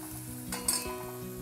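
Coriander hits hot tempering oil in a pan with a steady crackling sizzle and a brief louder spit as it goes in, quiet and close with no voices.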